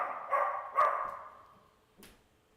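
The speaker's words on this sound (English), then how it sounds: "There goes that loud dog of y'all's." A loud dog barks twice in quick succession, then gives a fainter third yip, heard from indoors during a televised football game.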